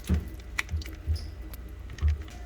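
Peeled tomatoes in a strainer are shaken to drain off water, giving soft wet squishes and low thuds in a steady rhythm of about five close shakes.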